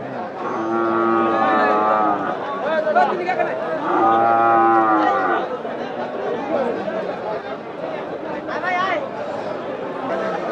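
Cattle low repeatedly at a busy cow market in Nilphamari, Bangladesh, with long harmonic moos rising over a steady crowd murmur and people talking nearby.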